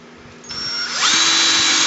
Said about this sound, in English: with our small drill bit, we're going to drill where our 2 lines meet